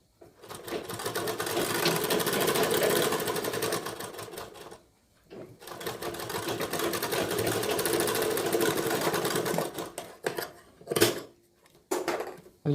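A sewing machine stitches a blouse in two long, steady, close-up runs separated by a brief pause. Several short stop-start bursts follow near the end.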